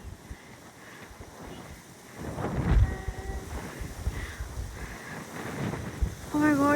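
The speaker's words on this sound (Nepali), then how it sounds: "यस्तो हावा चलेछ" Strong wind blasts across the open top of a moving train, a gusty rumbling roar that swells partway through, with brief faint voices and a short whistling tone near the end.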